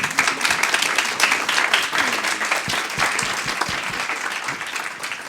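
Conference audience applauding speakers at an AI event, steady dense clapping throughout at close range, filling the room without a break.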